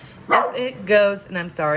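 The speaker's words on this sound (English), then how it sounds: "if you hear my dogs barking" Dogs bark several times, loud and close, including one named Bowie, heard in a home workspace; the barks come in short bursts while a person talks over them.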